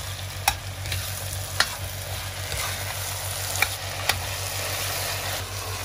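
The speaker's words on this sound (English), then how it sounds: "And then stir it in." Vegetables fry and sizzle in a pan with steady low crackling, punctuated by a few sharp scraping stirs of a utensil against the pan, close and moderately quiet.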